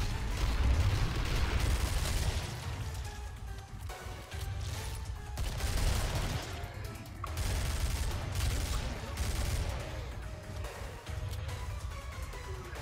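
Sustained bullpup rifle fire in Killing Floor's multiplayer objective mode, dense and continuous bursts with only brief gaps, loud and close over heavy low-end rumble and clanking mechanisms.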